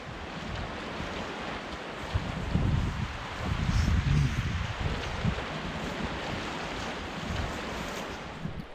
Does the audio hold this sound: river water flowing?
yes